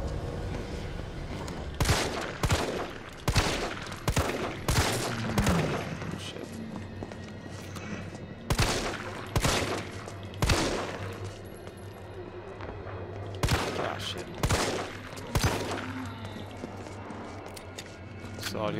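Repeated gunfire from the Resident Evil 3 game on PS4, sharp reports spaced irregularly across the clip, sometimes in quick pairs, over a steady game background while a person talks.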